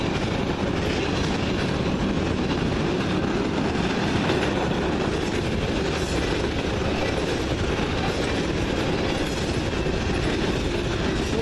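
A CN freight train rolls past at Ladysmith, its wheels giving a steady close clickety-clack and a continuous rumble with faint squeals, loud and unbroken throughout with no talk.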